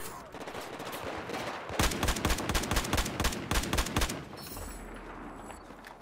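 Rapid bursts of gunfire in the first-person shooter Battlefield 4, about a dozen sharp shots in quick succession near the middle, over a steady bed of battlefield noise.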